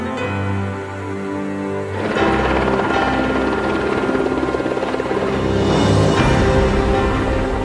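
A salvage helicopter flies close by, its steady rotor and turbine roar starting in a lower hum and jumping to a louder, fuller clatter after a couple of seconds, continuing loud and unbroken.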